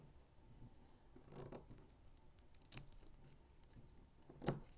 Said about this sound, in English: let me get my scissors and do that right now